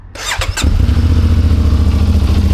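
A CFMoto 450MT motorcycle's electric starter whirrs briefly before the engine catches and settles into a loud, close, steady idle with a rhythmic low throb.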